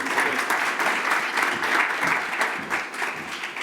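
Steady, full applause from a conference audience at an education summit as a speaker is brought to the stage, continuous and fairly close for several seconds.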